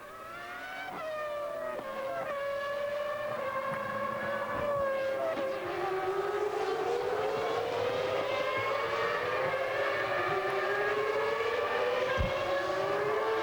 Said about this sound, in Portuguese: Mika Häkkinen fazendo mais uma ultrapassagem, agora deixou o carro da Prost para trás